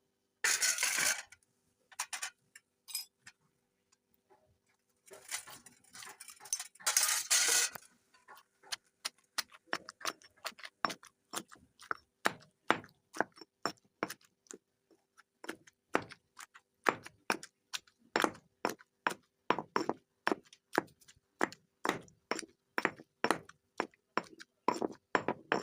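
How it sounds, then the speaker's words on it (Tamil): Roasted eggplant pounded in a mortar for a Tamil-style curry, a steady run of sharp, near knocks that start sparse and quicken into an even rhythm, with a couple of longer scraping passes early on. "நான் வந்து இதில் போட்டு இடிக்க போகிறேன்."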